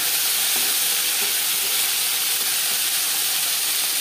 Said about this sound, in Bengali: প্রথমে আমি অল্প করে ভেজে নেব।